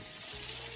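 Green beans and small meatballs sautéing in a pan of oil for a Valencian summer paella with eggplant, a steady close sizzle and crackle with no talk.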